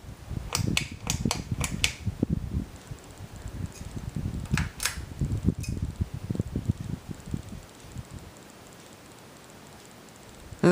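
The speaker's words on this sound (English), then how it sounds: "for low, which I'll show with the fan and light on running simultaneously" A 52-inch Canarm ceiling fan with its light on turns at low speed, giving a soft steady whir with a few brief clicks and rustles near the start before settling into a faint, even hum.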